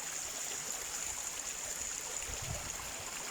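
Steady outdoor stream water flows on and on with a broad, even rush, close by, with a faint low rumble and no voices.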